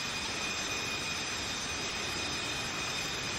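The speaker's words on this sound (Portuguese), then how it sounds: "o avião decola sem anormalidades, rumo a Orly, na França" A jet airliner takes off, a steady broad roar of engines with a constant high whine, continuous and unvarying throughout.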